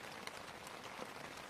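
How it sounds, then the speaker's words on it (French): Steady rain patters on a tent during a wild bivouac, a dense even hiss of drops with occasional louder taps, close and unbroken, with no voices. "peut-être s'il arrête de pleuvoir"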